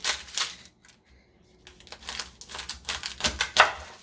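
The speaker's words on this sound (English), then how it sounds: "for the garlic, you're just going to cut it in half like that" A knife cuts through a garlic bulb in a kitchen, close crunching and scraping strokes in short bursts with a brief pause near the middle.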